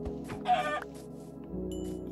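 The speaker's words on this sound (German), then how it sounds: "Da ist ein Huhn." A chicken in the Minecraft video game gives a short clucking call with a quick bird squawk, standing out over a steady low droning background.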